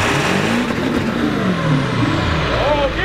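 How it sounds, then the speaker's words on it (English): Old rusty truck engine fitted with a whistling turbo revving hard, loud and close, the pitch rising and falling through rolling revs while people talk nearby. "Rev it up. Rev it up."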